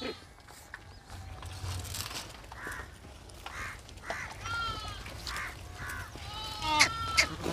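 A village flock of sheep bleats intermittently as it heads out to graze, several wavering calls at moderate distance over a quiet outdoor background, growing more frequent toward the end.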